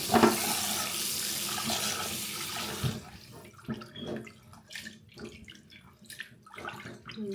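Water gushes from a tap for a few seconds, then breaks into intermittent splashes and sloshing as lentils are rinsed in a dish, close, with no talk.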